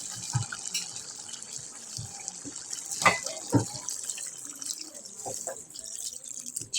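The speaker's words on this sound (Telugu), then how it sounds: "నాటుకోడిలోకి తగినంత వాటర్ వేసుకోవాలి" Water pours into a pot of country chicken curry, a gentle splashing trickle with a few louder gulps and sloshes, close and moderately quiet, under a soft background hiss.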